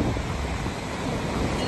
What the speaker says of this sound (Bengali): সমুদ্রটা জাস্ট ঢেউটা দেখো একটু।